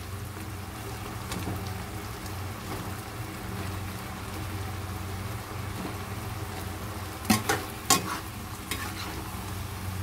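Dory fish added to sweet and sour sauce in a frying pan, giving a steady soft sizzle and bubbling under light stirring, with a few sharper clinks of a utensil near the end.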